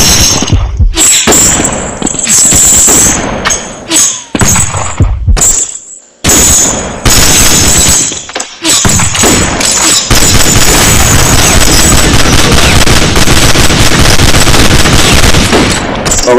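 Dense, loud video game gunfire from a shooting game: rapid automatic bursts and heavy booms pile up almost continuously, with brief gaps early on before a sustained roar of shots.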